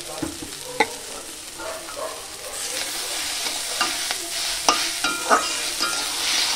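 Cumin powder stirred into dal frying in a pan, a steady sizzle with scraping spoon strokes that grows louder and brighter midway, no voices.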